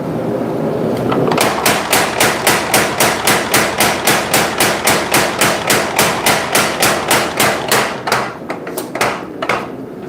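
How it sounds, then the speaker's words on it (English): Rapid, loud metallic hammer blows on hot steel while forging a knife, a steady run of about thirty evenly spaced strikes close by, slowing into a few scattered final hits. "I'm finishing the number 4 out of 4 knives that we're forging tonight"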